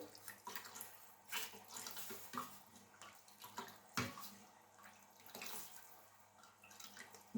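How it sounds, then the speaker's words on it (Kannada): Water poured into thin Kannada-style rasam (tili saaru) made with a ground paste, a steady trickling splash with small surges and gurgles, close and moderately quiet, with no one talking. "ಇವಾಗ ನಾನು ನೀರು ಹಾಕ್ಕೋತೀನಿ."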